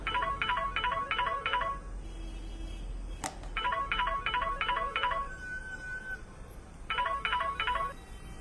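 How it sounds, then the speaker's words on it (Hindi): A mobile phone rings in bursts of rapid, trilling electronic beeps, repeated in three groups with short pauses between them and a brief click in the middle, over a quiet room hum. "तभी अचानक ही नक्श का मोबाइल बज उठा।"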